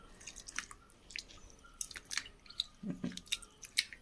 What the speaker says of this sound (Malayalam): ഇതിങ്ങനെ കൈ കൊണ്ട് നന്നായി തിരുമ്പി പിഴിഞ്ഞെടുക്കുക